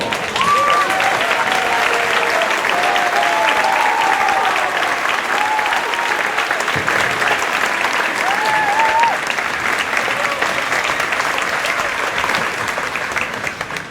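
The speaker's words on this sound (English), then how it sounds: "let us show you our appreciation with this round of applause" A big crowd claps enthusiastically in sustained, dense applause at a high school marching band indoor show, with a few faint voices and whoops rising over the clapping throughout.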